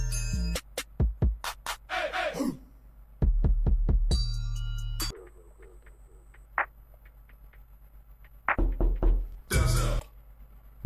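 Sharp knocks on a door come in quick clustered bursts, loud and close, separated by quieter stretches with faint clicks; no one speaks.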